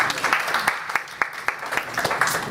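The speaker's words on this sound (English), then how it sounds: "Let's give Kelly another round of applause." A crowd applauding, scattered individual claps standing out from a steady, moderate patter of hand claps.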